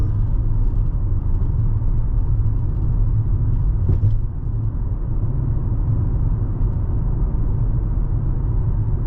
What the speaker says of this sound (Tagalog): mabibilis ang sasakyan